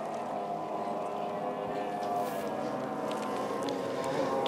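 An unlimited outboard racing boat with a GTR Trask racing hull roars hard down the front straightaway, a loud, sustained high-revving engine drone that swells slightly as it speeds past.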